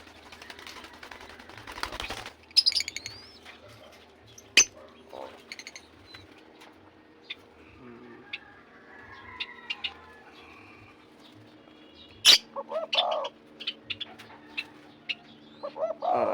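Pet kapagaw doves coo and call softly at a breeding setup, with scattered chirps and a few sharp clicks and knocks spread across a quiet room.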